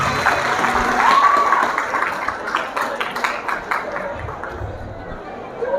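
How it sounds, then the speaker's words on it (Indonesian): Students and staff at a school Isra Mi'raj commemoration applaud in a big hall, a broad wash of clapping that gradually tapers, with murmured chatter mixed in. "Tepuk tangan dulu buat semuanya."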